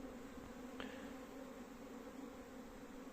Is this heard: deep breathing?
no